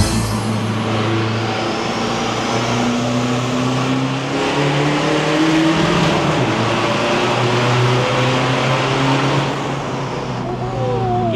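A tuned 1.9-litre diesel car engine revs high and hard in gear, its loud, close drone climbing and shifting pitch through long pulls, with voices heard faintly underneath.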